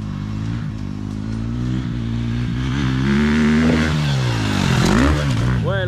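A motorcycle engine revs hard and close in preparation for a 30-metre jump, its throttle rising and falling in loud sweeping surges over a constant rumbling idle.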